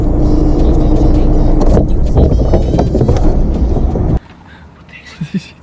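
Loud, steady rumble of a car interior or nearby road traffic for about four seconds, then an abrupt drop to quiet with a couple of faint thumps, with voices talking over the noise.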